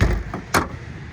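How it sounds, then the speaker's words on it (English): The rear emergency door of a 2015 International school bus is swung shut, giving a short metallic clunk and latch thud after a softer knock, with brief rattles in a quiet setting. "So now we're going to close our emergency door."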